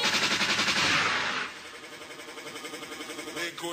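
Gunshot sound effect dropped into a jungle DJ mix: a loud rapid burst of rattling, machine-gun-like shots that fades into a quieter rhythmic beat, with a faint voice underneath.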